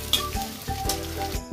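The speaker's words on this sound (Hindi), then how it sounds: "थोड़ी देर तक इसको भून लें" Onions hit hot oil in a pan while cooking tawa kaleji fry, a loud close sizzle with quick stirring scrapes and knocks, fading out at the very end.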